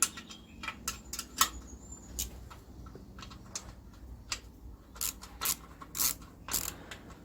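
Bolts being tightened on the wheels and axle of an old mini ride-on mower, a series of quick ratcheting clicks in irregular bursts, close and fairly quiet with no talk.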